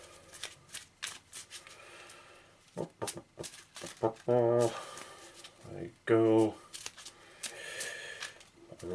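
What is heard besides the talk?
shuffling a deck of cards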